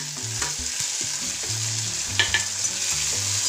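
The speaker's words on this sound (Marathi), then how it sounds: "थोडंसं परतून घेऊ." Chopped tomato sautéed with green chillies in a pan, giving a steady sizzle and frying hiss with repeated scraping and stirring strokes of a spoon, close up and without talk.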